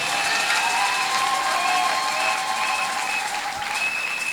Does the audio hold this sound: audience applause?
yes